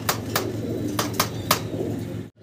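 A German Beauty Homer pigeon with Andalusian colouring coos softly and repeatedly in a short, close burst, with a few sharp rustling sounds of wings or movement mixed in.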